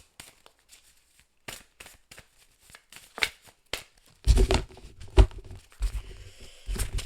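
Tarot cards being reshuffled by hand, a series of soft riffling and sliding bursts that start sparse and faint, then grow denser and louder with rustling and tapping toward the end.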